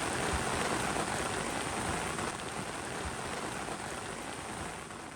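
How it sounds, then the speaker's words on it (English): Heavy British rain pours down steadily in winter, a dense, loud hiss of drops drumming on a surface, continuous and unbroken with no voices. "the British rain does have the advantage, and it continues to do what it does best."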